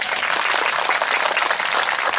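Audience applause at a Saturday lecture on justice and democracy, a dense, steady wash of many hands clapping close and loud throughout, with no talk over it.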